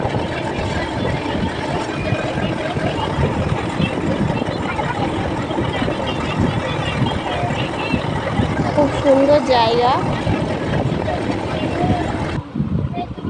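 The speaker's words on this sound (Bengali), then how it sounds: "আর এই দেখো আমরা ইঞ্জিনখানে উঠে গেছি, একই স্পিড বাড়িয়েছি।" A motor boat engine runs at raised speed on a Sundarbans river, a loud continuous drone mixed with wind and water rush, and a person speaks briefly over it.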